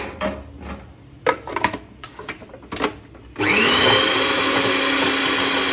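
A few soft knocks and clatters, then an electric chopper starts up chopping green chillies, coriander and ginger-garlic paste, whirring steadily at high speed, loud and close.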